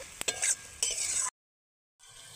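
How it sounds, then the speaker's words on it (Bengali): Fried potatoes coated in salt and turmeric are stirred into a pan for a tangra fish curry, giving brief scraping and clinking over a light sizzle. The sound cuts to silence, then resumes faintly. "আলুগুলো ভেজে রেখেছি নুন হলুদ দিয়ে, তো আমি ছেড়ে দেবো এখন আলুগুলো। এখন এটা ভালো করে আমি একটু মিশিয়ে নেব।"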